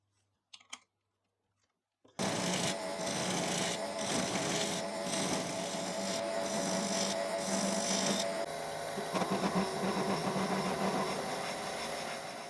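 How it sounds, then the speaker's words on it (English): A drill bores into a wooden gear blank mounted on a lathe: after a few light clicks, a loud, steady, gritty whir runs continuously for about ten seconds. "I can't drill them all the way through as I'll hit the mounting ring"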